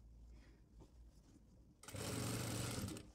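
A sewing machine runs steadily for about a second and a half, stitching the ban (collar band) of a kurta, starting after a quieter stretch of low room noise.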